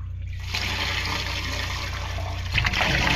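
A toilet flushes into a blocked drain, water rushing and gurgling steadily through the pipe, swelling louder near the end, with no talking.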